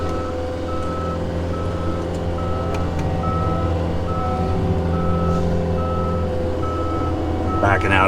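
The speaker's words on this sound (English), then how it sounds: "Backing out into a county road, so I gotta watch for traffic." A heavy truck reverses out onto a county road, its backup alarm beeping in a steady, evenly spaced rhythm over a loud diesel idle rumble, with brief clatter near the end.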